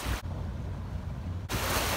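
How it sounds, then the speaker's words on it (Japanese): A steady rush of surf on the shore, with a brief muffled dip in the middle before the full washing roar returns. "もうすぐそこまで波が来てます"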